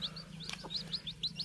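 Newly hatched country chicken chicks peep in a quick run of high, thin chirps, calling for the hen, over a low steady background hum.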